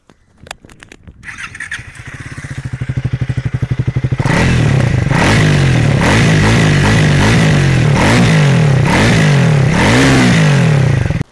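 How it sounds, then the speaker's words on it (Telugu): A Triumph Speed 400 motorcycle starts with a few cranking clatters, settles into a loud thumping idle, then is revved repeatedly in rising, throaty bursts from its exhaust, close and alone without any talk. "అండ్ ఆల్సో ఎగ్జాస్ట్ నోట్ వినండి"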